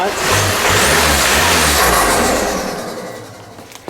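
A VW Caddy diesel engine with an upgraded intercooler revs up loudly and close, roaring steadily for a few seconds before settling back and fading slightly.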